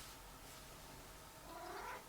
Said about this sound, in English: don't know if you heard him meow, but that's what he did